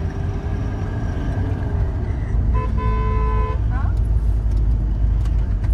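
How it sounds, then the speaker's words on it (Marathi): A car driven fast on a road, its engine and road noise roaring steadily and loudly throughout, with a brief horn toot midway; people talk over it. "किती जोरात गाडी पळवतोय"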